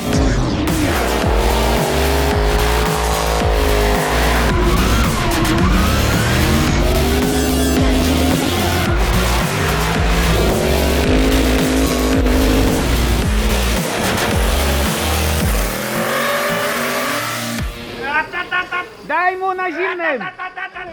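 A drift car on drifting tires roars and burns rubber with loud, sustained squealing and revving engine at close range, then the noise drops away to quieter scattered sounds near the end.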